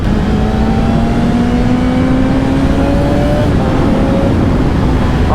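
A 2025 BMW M1000XR motorcycle accelerates hard on the road, its engine a loud, continuous, close drone whose pitch climbs steadily over wind rush.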